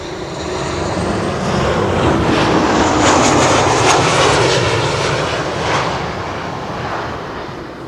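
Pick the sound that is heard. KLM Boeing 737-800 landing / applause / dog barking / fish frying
KLM Boeing 737-800 landing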